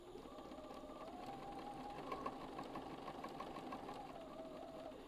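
A sewing machine runs steadily stitching a quilt block seam, a close, even mechanical whirr with rapid rhythmic needle clatter lasting several seconds, no voices.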